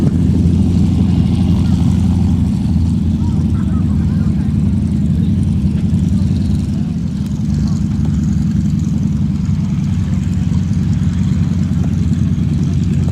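A World War II Val dive bomber's engine drones loud and steady at an airshow at Geneseo, a continuous low rumble that holds without a break for the whole stretch.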